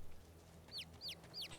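Chickens in the video game Divinity: Original Sin 2 give three quick, high clucks at a steady pace, faint and close, over a low hum of background game ambience.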